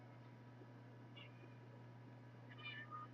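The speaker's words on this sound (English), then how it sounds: "She's literally meowing like every half second right now." A pet cat gives a couple of faint, short meows, one brief and one slightly longer, over a quiet room with a steady low hum.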